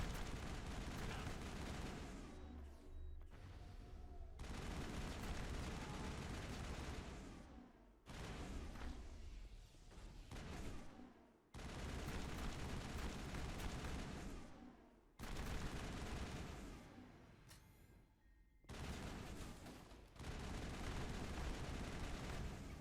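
Sustained, dense video-game gunfire from hammerhead rounds in Mass Effect, a loud continuous barrage of shots and booms with brief pauses between bursts.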